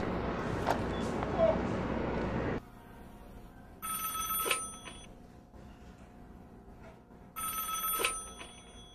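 A telephone rings in two separate bursts, each about a second long, after a stretch of muffled background noise and faint voices.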